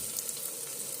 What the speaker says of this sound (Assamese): আৰু এইখিনি আমি ভালদৰে ভাজি ল'ম। হলাই ল'লোঁ মছলাখিনি।